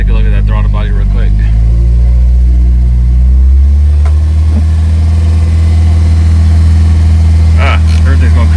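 A car engine runs at a high, rich idle, loud and close, with a steady deep rumble. Someone talks over it at first, and the idle speed then shifts and settles.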